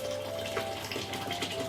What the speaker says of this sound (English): I've boiled a kettle, And what I do, bit controversial, is I pour from a high angle.